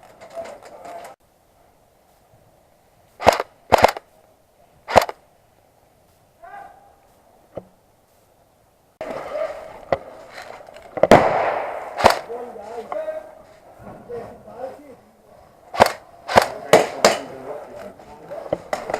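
Airsoft guns fire outdoors during a skirmish game, sharp sudden cracks in short bursts and single shots, some close and loud, with scattered voices calling out between them.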